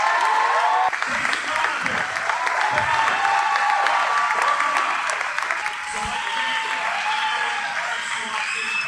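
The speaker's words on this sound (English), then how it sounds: "Let me give a big round of applause for Tracy Watson." A crowd at an endurance obstacle-race community brunch gives a long round of applause for a guest, with continuous clapping mixed with cheering voices and a few louder bursts near the start before it settles into a steady, slightly quieter ovation.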